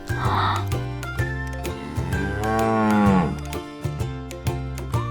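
A child imitates a bull mooing, a long rising-falling voiced moo near the middle, over a bouncy children's music track with steady beats.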